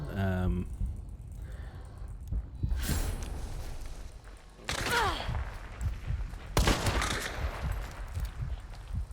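Several loud, sharp gunshots ring out a few seconds apart in the Western shooter Hunt: Showdown, each one with a short echoing tail. Quieter breathy sighs and talking fill the gaps between the shots.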